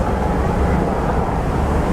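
Several helicopters flying over Hong Kong produce a steady, loud low rumble that fills the whole stretch without letup.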